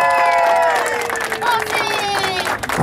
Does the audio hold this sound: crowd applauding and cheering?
yes